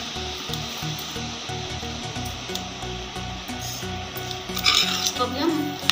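Grated carrots and sugar are stirred in ghee in a pan, giving a soft steady sizzle with repeated scraping strokes and a louder burst of stirring near the end.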